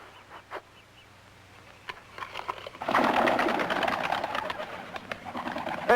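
Rooftop pigeons cooing softly at first, then a denser, louder burst of cooing and wing flutter from several birds nearby, in a period family drama.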